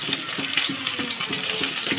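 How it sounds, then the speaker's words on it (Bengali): Rohu fish frying in hot oil in a pan, a dense, steady sizzle that holds at the same level throughout, close and fairly loud, with faint rhythmic stirring or bubbling pulses and no voices. "মাছগুলো এপিট ওপিট খুব ভালোভাবে ফ্রাই করে নেব।"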